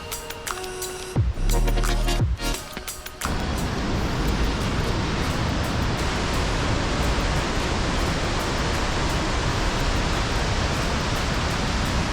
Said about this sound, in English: So that was Savica, or Savica waterfall.